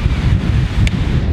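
Ocean waves at Venice Beach, California, as a steady low rumble of surf mixed with wind buffeting the microphone, continuous and close, with no voices.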